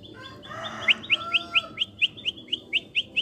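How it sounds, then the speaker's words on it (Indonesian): A perenjak lumut bird sings near a house in Klaten, giving a quick series of sharp, high chirps in a steady rhythm, fairly close and clear over a soft background hum. "Di sini ada burung perenjak lumut loh."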